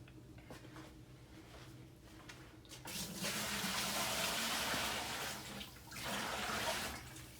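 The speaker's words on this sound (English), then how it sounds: "now let's add the water." Fifteen pounds of water is poured into a large container for a big batch of cinnamon and oatmeal cold process soap. A quiet lead-in gives way to a loud, steady rushing pour that dips briefly and then resumes.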